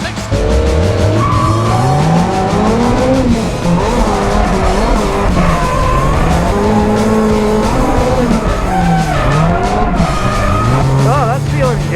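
A 400-horsepower SR-powered drift car tandem drifting on a track, engine screaming at high revs with rising and falling pitch and continuous tire squeal, loud and close throughout.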